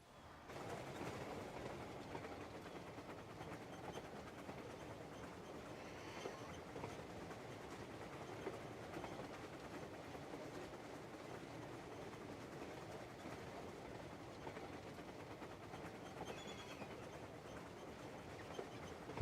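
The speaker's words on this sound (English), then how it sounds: "And the train's taking me all the way over here." In the Crimson Desert video game, a train rolls along rails with a steady, fairly quiet rumble and faint rhythmic clatter, continuous for the whole stretch with no talk.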